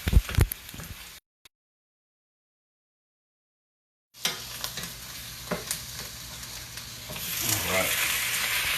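Pork chops with rub sizzle and fry in a pan, a crackling hiss broken by a short silence, then steady frying with occasional stirring scrapes that grows louder toward the end.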